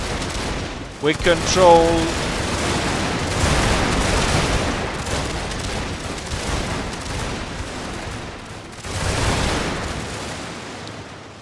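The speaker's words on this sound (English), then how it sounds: "all that loud gunfire went on" Loud massed musket and cannon fire rolls through a Total War battle for the Russian Empire, dense crackling volleys sustained throughout with a short burst of talk near the start.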